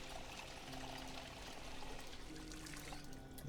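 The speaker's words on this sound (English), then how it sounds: "Just gonna fill up on water before we do that." Water pours and trickles steadily as a character fills up on water in the video game Project Zomboid, a continuous soft stream at moderate volume with no talking.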